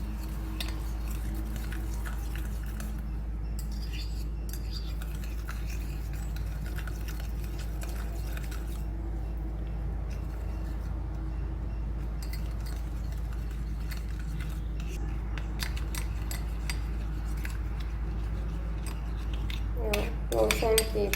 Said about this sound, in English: you must stir it well